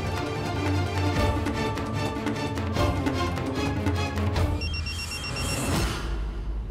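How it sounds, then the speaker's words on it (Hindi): A mobile phone rings in a hospital room with a busy electronic ringtone melody that plays on for several seconds at a steady, fairly loud level, ending in a brighter chiming phrase. "ये मेरा फोन नहीं बज रहा है। मेरा फोन है।"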